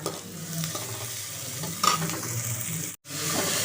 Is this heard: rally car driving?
no